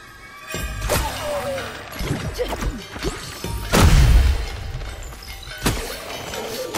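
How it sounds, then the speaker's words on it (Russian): An explosion in the video game Kena: Bridge of Spirits erupts as a loud, booming crash with a deep rumble, set among scattered thuds, whooshes and other game effects. "Ну, кстати, взрыв не такой уж и сильный."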